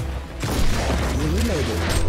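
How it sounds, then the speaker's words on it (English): Gunfire in Warhammer 40,000 Inquisitor - Martyr: a rapid, dense burst of shots that starts suddenly and keeps going in a steady, noisy volley, loud and close. "Cleansing shots fired."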